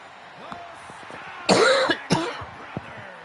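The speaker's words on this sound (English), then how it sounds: "I apologize for the coughing" A person coughs twice in quick succession, close and loud, between faint background sounds and murmuring.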